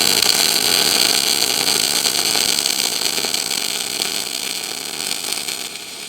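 MIG welding aluminum with an ArcCaptain MIG 205MP welder: a steady, loud, hissing buzz running continuously and fading slightly toward the end, close up, with no talking.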